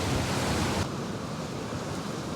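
Strong wind buffets a microphone on a shoreline while someone fishes from the shore. A loud rush of noise eases after the first second into a steadier blowing hiss.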